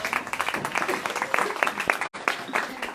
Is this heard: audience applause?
yes